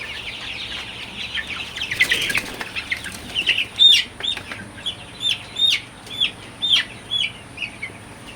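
A Sonali super hybrid chicken, 32 days old, flaps its wings in bursts while being caught on a poultry farm, with clucks and short squawks repeating close by, with no talk.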